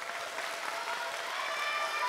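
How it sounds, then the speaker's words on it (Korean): An audience at a youth career festival claps for a team, a dense and steady roar of applause that holds level for about two seconds with no voices. "우리 플로렌스 팀에게 다시 한번 박수 부탁드립니다."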